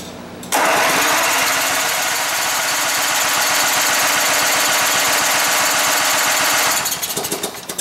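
A twin engine cranking with the choke closed: a loud, steady mechanical churn with a fast rhythmic pulse that starts abruptly, runs for about six seconds without catching, then winds down unevenly.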